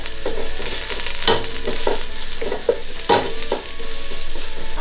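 Spices stirred into beef curry in a frying pan, a steady sizzle broken by repeated scraping and clinking strokes of the spoon, close up and without voices.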